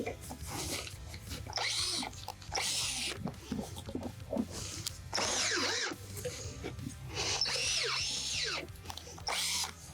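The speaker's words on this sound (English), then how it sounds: "and then you can begin finishing to drill your holes." A power drill bores holes into wooden raised bed boards in repeated bursts, each run whirring and whining under load for a second or two. Short pauses and handling noises fall between the bursts.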